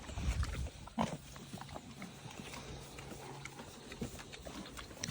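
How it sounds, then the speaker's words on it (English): Pigs grunt during a vet visit: a run of low, close grunts and snorts with a few hollow knocks like hooves on a hard floor, fairly steady across the whole stretch. "Oh, these smart pigs."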